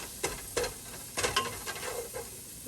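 Seasoned food in a pan is being stirred, with several soft scraping strokes over a steady, quiet sizzle, close up, with no talking.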